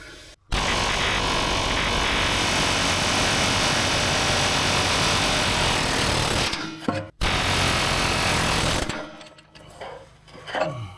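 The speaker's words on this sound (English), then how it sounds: "Air hammer go brrr." An air hammer rattles continuously at full loudness for several seconds, cuts out briefly, then resumes before stopping, leaving quieter clatter.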